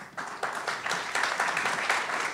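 An audience at a civil discourse society talk breaks into applause. Moderately loud, dense clapping rolls on with a slightly pulsing rhythm for a couple of seconds, with no voices over it.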